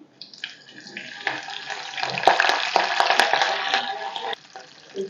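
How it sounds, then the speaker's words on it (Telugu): Curry leaves drop into hot tempering oil with dried red chilli for a taro curry, setting off a sudden loud hissing sizzle with sharp crackles that swells and then settles. "ఫ్రెండ్స్ తాలింపు కొంచెం వేగిన తర్వాత కరివేపాకు కూడా వేసేసుకోవాలి"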